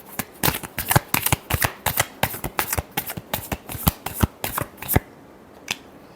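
A deck of tarot cards is shuffled by hand in a steady run of sharp, close riffling snaps for about five seconds. A single soft tap follows after the shuffling stops.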